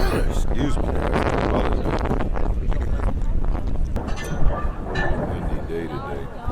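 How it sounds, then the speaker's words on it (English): Wind gusts across an outdoor backyard dog race, a low rumbling buffeting beneath steady announcer talk and nearby voices. "Windy day today."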